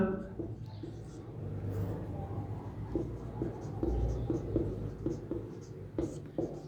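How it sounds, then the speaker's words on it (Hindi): Chalk or marker scratching on a classroom board as a teacher writes during a Hindi grammar lesson, a run of short strokes and taps set against room noise and murmur, with no speech over it. "अब यहां पे मैं चारों को आगे लिख देता हूं इधर"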